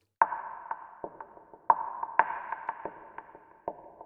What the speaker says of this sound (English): the mix is quite a liberal amount of reverb